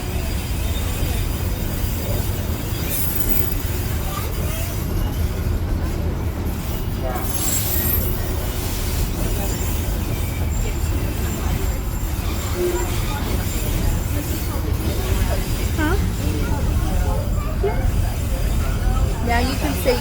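A museum train ride in Colorado gives a steady, loud rumble of rolling wheels and rattling carriage throughout, with faint muffled voices in the car.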